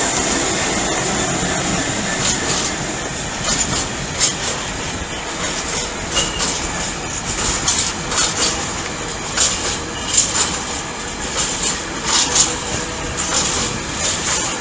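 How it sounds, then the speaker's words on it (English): A freight train rolls steadily through Ely station, its continuous rumble and wheel noise punctuated by rhythmic clicks and clacks over the rails, loud and sustained with no one speaking. "as this freight train continues onwards"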